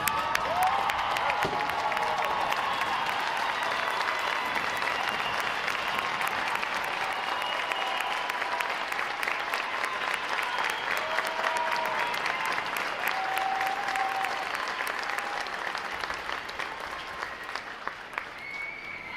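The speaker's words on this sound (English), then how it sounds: "give another round of applause for these amazing sailors" Applause from a large audience at a U.S. Navy Recruit Training Command boot camp graduation rolls on continuously for nearly twenty seconds, a dense even roar of clapping that tapers slightly near the end.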